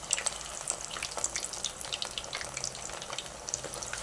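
Chicken frying in hot oil in a pan, a dense, continuous crackle and sizzle with frequent sharp pops, heard up close with no talking.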